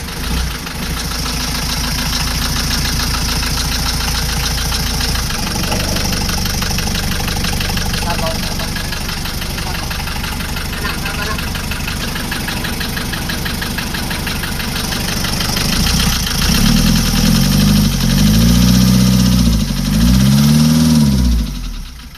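Hyundai Starex with a D4BH diesel engine, running without a radiator after the timing belt snapped, gives a loud continuous clattering idle for the whole stretch, rising toward the end with some surging.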